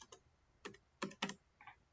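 Keys clatter on a computer keyboard as a test credit card number is entered into an online order form, arriving in a few quick, close clusters of taps separated by short pauses, with no talk.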